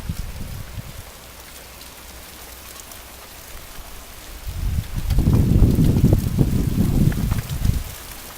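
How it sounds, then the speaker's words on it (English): Rain falling on dry ground outdoors, starting as a soft patter with wind noise, then swelling into a louder, closer, steady rush of drops. "Ah, that wonderful smell of rain falling on dry ground."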